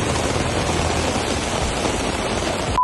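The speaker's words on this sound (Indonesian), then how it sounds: "hujannya deras banget guys" Heavy rain pouring down in a steady, dense broadband hiss that stays loud and even throughout, with no talk over it.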